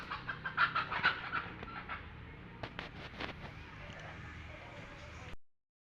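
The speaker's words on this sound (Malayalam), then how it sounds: "കോഴി എന്താണത്?" A chicken clucks close by in a few short bursts over a quiet outdoor background, with people talking around it.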